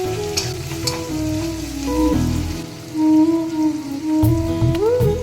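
Ingredients for palak chicken fry in a hot pan with a continuous loud sizzle, and tonal background music runs underneath the crackle throughout.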